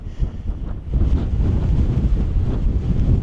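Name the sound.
wind blowing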